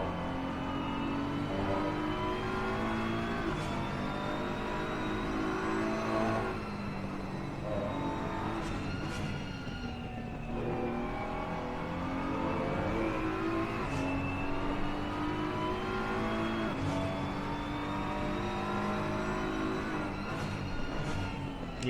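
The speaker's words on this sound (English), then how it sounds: "the one thing about the BMW is the way it sounds. It sounds so muted and calm." A BMW race car in a sim racing game at Imola, its engine droning steadily and climbing through revs with gear shifts, loud and continuous for over twenty seconds with no talking.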